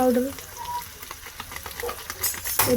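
Onion, garlic and potato fry with turmeric in a pan, a soft sizzle broken by stirring scrapes and light clinks of a utensil, growing busier near the end.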